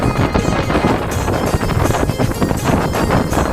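Strong, steady wind roars across the microphone with broadband rushing and buffeting on a traditional fishing boat at sea near Elephanta Island in stormy weather.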